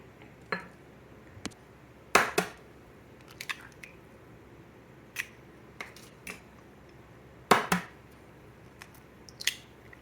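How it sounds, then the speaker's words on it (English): Two eggs being added to seasoned ground meat with black pepper and Hungarian paprika for Hungarian stuffed peppers, then mixed in a bowl: sparse sharp cracks and wet squishing clicks, a few spaced strong hits among quieter ones, close and with no talking. "I'm going to add 2 eggs and mix this again"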